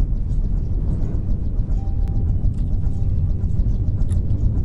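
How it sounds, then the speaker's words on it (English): Jet engines on a flying craft in From the Depths roar in a steady, loud, low rumble that never lets up, with faint hiss on top. "More jet engines."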